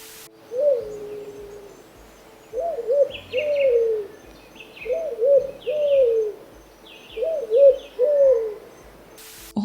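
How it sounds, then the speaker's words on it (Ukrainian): A turtle dove gives repeated purring, cooing calls in paired phrases with short pauses between them, clear and fairly close against a quiet background with no voices. "Горлиця не вражає яскравим забарвленням і не дивує силою, проте її голос уже сотні років викликає у людей дивне відчуття смутку"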